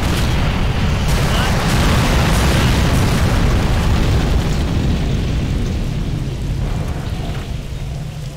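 Fireworks-like explosions in the video game Ex Machina, a dense, loud barrage of booms and crackling blasts that rumbles on continuously and fades slightly toward the end.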